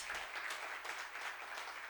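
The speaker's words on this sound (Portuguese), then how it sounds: "Você pode dar uma salva de palmas para essa equipe de louvor maravilhosa." Church congregation applauding a worship team during a service, a soft, steady patter of many hands sounding fairly distant and low in level, with no talk over it.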